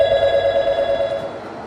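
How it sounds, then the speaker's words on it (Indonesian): An incoming call sets a telephone ringing in a television health talk-show studio, a steady, clear electronic tone that rings continuously and stands alone without voices. "ada telepon masuk"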